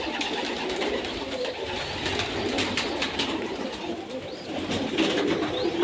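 Pigeons at a pigeon farm coo softly and repeatedly over a steady bed of outdoor noise, with occasional chirps from other birds in the background.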